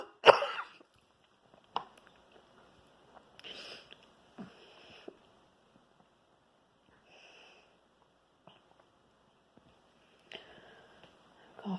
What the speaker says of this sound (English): But I'm coughing so hard.